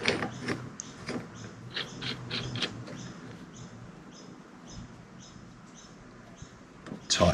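Faint, quick metallic clicks and ticks come in short bursts as bolts are tightened on a bearing separator under an outboard crankshaft bearing, fading to quiet background by the end.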